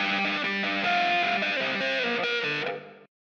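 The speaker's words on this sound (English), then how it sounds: "we've got the doubling sound and the reverb and the small reverb" Electric guitar playing a part through a Headrush unit with a doubling delay and small reverb, a steady distorted phrase of sustained chords and notes that ends abruptly after about three seconds.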